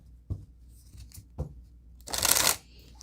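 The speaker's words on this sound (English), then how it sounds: "I like to shuffle on camera" Quiet tarot card handling: a couple of soft taps and flicks, then a brisk riffle shuffle of tarot cards lasting about half a second, close by.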